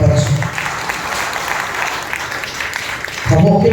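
A church congregation at a Sunday worship service claps loudly and steadily, a dense burst of applause from many hands, and a voice briefly breaks through at the very start and end.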